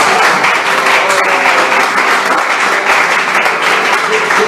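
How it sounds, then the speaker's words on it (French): A church congregation claps and cheers in loud, steady applause filling the room for the whole stretch, with no speaking voice on top. "Quelqu'un peut acclamer le Seigneur."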